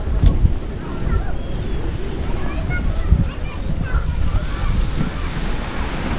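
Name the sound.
wind by the sea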